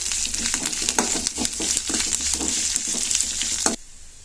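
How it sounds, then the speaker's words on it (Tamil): Loud sizzling and crackling of curry leaves frying in hot oil with stirring, close up, before the frying suddenly cuts off near the end. "கொஞ்சமாக கருவேப்பிலை இது மூணே நல்லா பொரித்து எடுத்துக்கலாம்"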